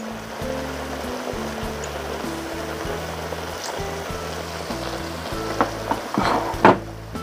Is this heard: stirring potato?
yes